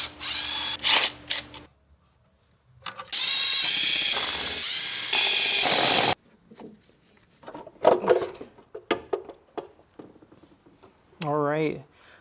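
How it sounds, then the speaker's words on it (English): Power tools work on the valve covers of an old truck engine, with bursts of drill or impact-driver whine and ratcheting clicks between pauses, mixed with close talking and shop noise. "I'm gonna pull off the valve covers"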